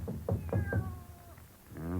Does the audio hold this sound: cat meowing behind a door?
yes